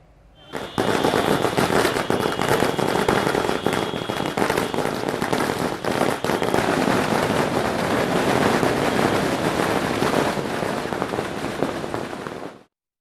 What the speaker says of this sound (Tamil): கழக தொண்டர்கள் பட்டாசு வெடித்தும் மேளதாளம் முழங்கவும் உற்சாக வரவேற்பு அளித்தனர்